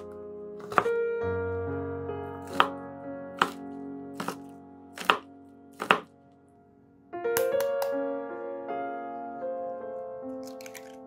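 A knife chops capsicum and green onions on a board for an omelette toast, making about six crisp, separate chops at irregular intervals over soft background music, with no voices.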